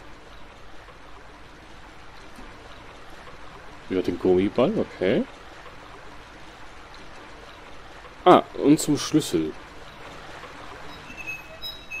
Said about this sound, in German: Fließt Wasser rein.